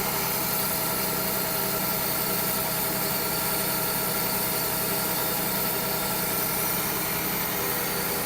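A John Deere 6175R tractor engine runs steadily at idle after a warranty repair, a loud, continuous mid-pitched drone with slight vibration and no pauses throughout.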